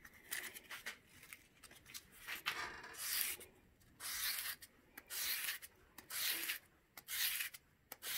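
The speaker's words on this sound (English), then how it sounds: "this hollow ground sharpening takes a lot longer than sharpening flat" A clipper blade is hollow-ground sharpened with sand, giving quiet rhythmic gritty rubbing strokes that repeat steadily close up, each stroke a short abrasive scrape, with no talking.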